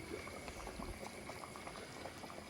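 Cucumbers simmer in tomato sauce with garlic and dill, giving a quiet, continuous bubbling with soft pops and small plops from a covered pot, with no one speaking.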